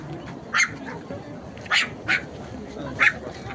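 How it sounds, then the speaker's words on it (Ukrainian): A few sharp dog barks ring out at irregular intervals, set against a steady outdoor background on Charles Bridge in Prague at Christmas. "Собачки гавкають."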